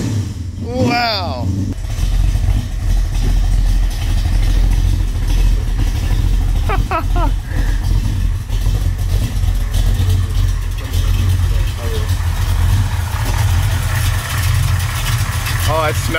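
A classic car's 455 Rocket 7.5-liter V8 idles nearby with a steady low rumble. People talk over it throughout.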